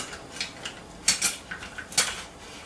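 Metal spoon clinking against cutlery and dishes as it is grabbed to plop gravy, a quick series of close, bright clinks and taps over under three seconds.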